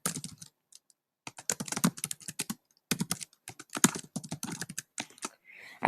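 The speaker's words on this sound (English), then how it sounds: "You can start typing." Bursts of rapid typing on a computer keyboard, close and crisp, broken by short pauses between runs of keystrokes.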